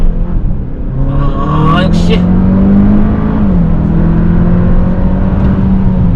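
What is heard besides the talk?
Hyundai Sonata N Line hard acceleration on highway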